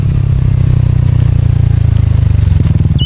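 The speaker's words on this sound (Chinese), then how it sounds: "尤其全油门狀態下，那個單桿活塞所碰撞出來的鼓動感" A Kymco G7 scooter's single-cylinder engine held at full throttle, a loud, steady pulsing drone with a fast, even thumping beat and a faint rattle over it.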